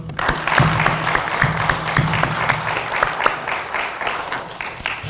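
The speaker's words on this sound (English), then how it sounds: "How about a nice round of applause once again for our esteemed healthcare technology" An audience at a healthcare technology pinning ceremony gives a sustained round of applause, a dense steady wash of clapping that carries on for several seconds with no one speaking.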